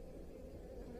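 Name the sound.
honey bees buzzing on top of hive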